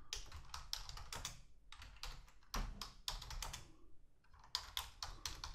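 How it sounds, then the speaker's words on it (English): Rapid keystrokes on a computer keyboard while text is typed into a photo-metadata program, close and clear, in several bursts with short pauses between them. "I press the Insert key and just type the text I want to associate with the new entry"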